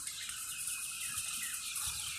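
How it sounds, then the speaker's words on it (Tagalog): A flock of birds calls all at once outdoors in Israel, a dense layer of overlapping chirps and clucks that keeps going at a moderate, slightly distant level, with no speech. "Ang daming ibon."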